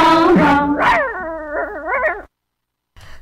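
Singers' voices mimic a dog's bow-wow barking in an old Hindi film song from Jadoo. The sung barks are loud and melodic, then cut to silence before a faint snatch of sound.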